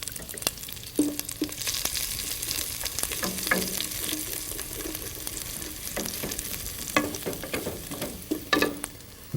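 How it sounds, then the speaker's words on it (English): Cumin seeds and fresh chilies sizzle steadily in hot oil, a dense crackling hiss broken by scattered sharp pops and the occasional scrape of stirring, close and fairly loud with no talk. "And fry up your cumin seeds and chilies."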